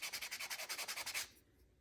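A tool rubbed briskly back and forth over leather to distress it, about a dozen rhythmic abrasive strokes, close and steady, then stopping into quiet.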